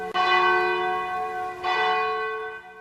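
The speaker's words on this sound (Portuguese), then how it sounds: "começa a bater um sino dia e noite, esse barulho se torna ensurdecedor" A large church bell in a church tower strikes twice, loud and close, each stroke ringing out with a long, shimmering hum that fades slowly.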